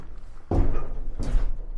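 A door being pushed shut twice, two solid thuds about three-quarters of a second apart, each landing with a dull low impact close by, with no voices over them.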